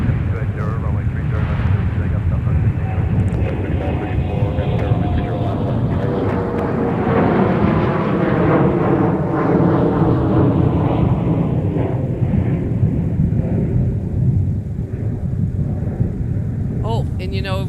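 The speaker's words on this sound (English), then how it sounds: "Here's Delta Airlines off to Charlotte." A Delta Airlines airliner taking off at MSP airport, a loud sustained jet engine roar that swells and slowly fades as it climbs away, with a voice heard over it.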